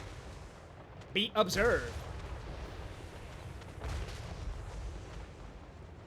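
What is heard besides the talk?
off-map artillery support firing, video game Total War Warhammer 3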